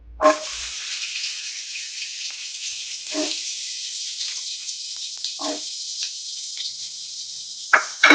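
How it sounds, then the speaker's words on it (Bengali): Chopped onion with cumin seeds fries in a pan, giving a bright, even hiss that runs throughout, with a few brief clatters of a spoon against the pan, heard up close with no voices. "হালকা পেঁয়াজটা একটু ভাজা ভাজা করে নেবো।"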